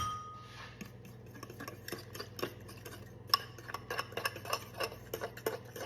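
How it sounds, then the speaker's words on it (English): Gravy mix is stirred into water with a utensil in a bowl, giving a run of quick, light clinks and scrapes that grow busier toward the end, over a low steady hum. "So putting the water in, we're going to stir it up."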